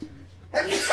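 A single sharp sneeze bursts out at close range near the end, following a child's speech during a Minecraft game at home.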